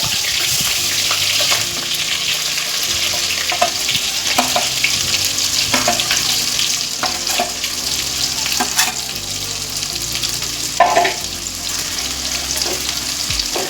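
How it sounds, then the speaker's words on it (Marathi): Mixer-ground masala paste for a Marathi-style fish curry sizzles steadily in hot oil, a loud continuous frying hiss with occasional spoon stirs and spatters, with no talking. "जी पेस्ट बनवलेली असते ती चांगल्या प्रकारे भाजून घ्यायची आहे"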